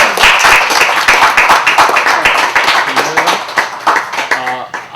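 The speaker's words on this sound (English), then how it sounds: "Can we have a nice round of Applause" A live studio audience claps loudly through a round of applause on a talk show, dense and close, gradually thinning toward the end while a voice speaks briefly over it.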